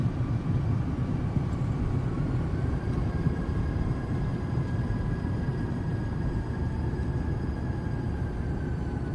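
Thrust reverser roars on a Phenom business jet rolling out after landing in a flight sim, a steady loud broadband rumble with a faint whining tone rising slightly over the course of the roll.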